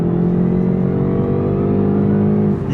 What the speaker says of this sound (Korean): 붕 하는 소리랑 모터가 웽 하고 도는 그 두 소리가 어울리면서 맞물리면서 약간 그 되게 이질감도 나지만 좀 뭔가 멋있는 소리가 납니다